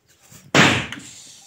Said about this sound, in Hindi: तो चलिए अभी बम पटाखा फोड़ते हैं